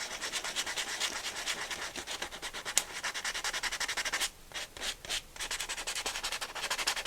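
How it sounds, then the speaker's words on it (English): A sanding block rubbing over a painted print, close and steady back-and-forth scraping strokes with a few brief pauses, no talking. "With a sanding block."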